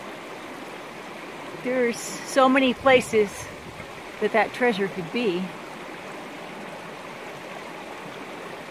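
A mountain stream, the Wood River near Kirwin, Wyoming, rushes with a steady broadband wash through the whole stretch while someone talks briefly over it.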